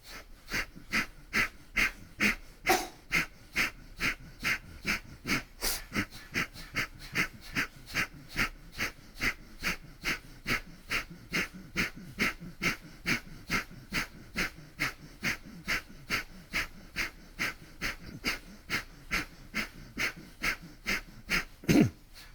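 Powerful rhythmic yoga breathing during a Kundalini session, a steady train of about forty loud, sharp breaths in quick even succession, close and clear with no talking over them.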